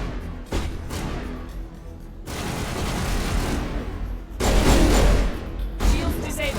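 Pistol fire in the sci-fi shooter game Mass Effect, a dense run of loud bursts and shots with brief pauses, filling the whole stretch alongside game effects.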